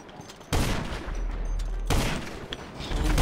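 Sustained automatic gunfire in a first-person shooter free-for-all match, a dense loud rattling burst that starts abruptly, briefly lets up, then resumes in continuous close fire.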